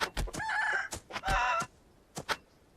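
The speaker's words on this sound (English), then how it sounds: "Look how big that chicken is." A giant chicken in the open-world survival shooter game Beached gives a burst of loud clucks and squawks, then a few short clucks after a brief pause.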